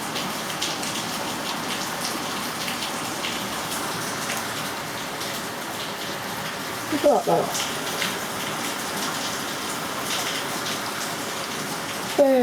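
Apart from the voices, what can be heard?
rain pouring down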